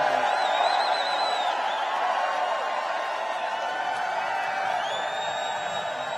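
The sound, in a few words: crowd cheering at a political rally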